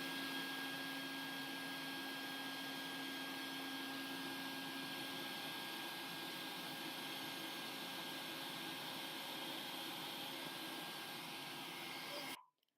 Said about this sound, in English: Hooked up my shop vacuum in reverse to blow air at the blades